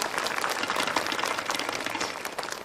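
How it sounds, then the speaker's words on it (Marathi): Audience clapping at a devotional discourse, a dense burst of many hands applauding at once, loud and sustained before tapering off. "आता टाळ्या वाजवा."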